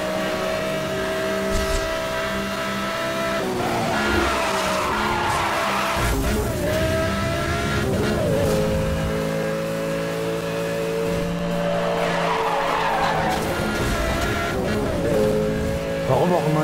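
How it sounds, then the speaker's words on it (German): A car in the Need for Speed Hot Pursuit Remastered video game drifts through a tight corner with a sustained roaring engine and long, wavering tire squeals that rise and fade over steady background tones. "der ist ein bisschen driften und zieht die Kurve doch noch enger zu"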